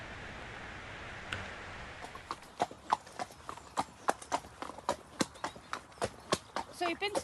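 An eager horse's hooves clip-clop briskly along a lane in a quick, bouncing rhythm after a couple of seconds of wind rush, the steps close and distinct, with a person talking faintly over them.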